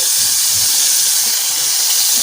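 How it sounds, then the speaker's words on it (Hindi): Tomatoes and onions fry in a pan, lightly browned, giving a close, steady sizzling hiss that fills the moment without any talk. "हमारे टमाटर और प्याज भी जो है ना हल्के से ब्राउन हो चुके हैं, फ्राई हो चुके हैं"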